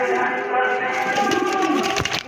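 A pair of domestic pigeons in a breeder's loft, nesting on two eggs, give low throaty coos close by, with a voice murmuring in the background and some handling noise toward the end.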